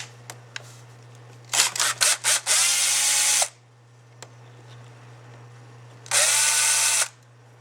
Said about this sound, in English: Remove these 4 screws.